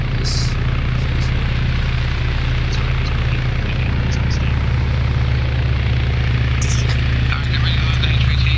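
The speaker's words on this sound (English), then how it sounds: "There goes the chopper." A helicopter in the Arma 3 military game gives a loud, steady low rotor drone that fills the whole stretch, with faint game noises flickering above it.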